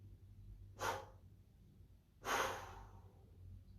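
Two forceful breaths blown out through the mouth in a breathwork exercise, the second longer and louder, close and airy with a quiet hum between them.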